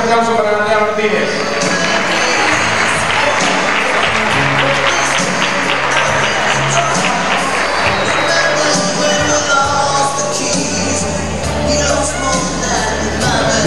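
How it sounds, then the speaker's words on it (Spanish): A crowd applauds Natalia Martínez, named a queen at the Atlético club's 82nd anniversary celebration. The loud, steady clapping lasts the whole stretch, mixed with voices and other sound from the room. "Fuerte ese aplauso para Natalia Martínez."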